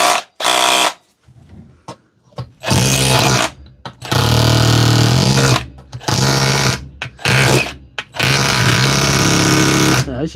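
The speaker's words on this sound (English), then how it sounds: "That's just hammering anyway." A DeWalt power tool hammers in loud, harsh, buzzing bursts of a second or two, stopping and restarting with short silent gaps in between, close to the listener, with no talking over it.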